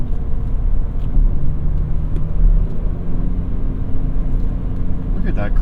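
A BMW M Coupe with the S52 engine rumbles steadily from inside the cabin during a double-clutch downshift, with a brief rev blip near the end over constant road noise.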